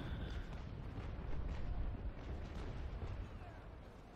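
Naval cannon fire in the video game Naval Action, in a sailing-ship battle between Swedish and French fleets. It comes through as faint, distant rumbling booms blending into a continuous low roar.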